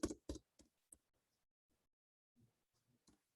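Scattered keystrokes on a computer keyboard, a few louder clicks early and then sparse quiet taps, with long near-silent gaps between them.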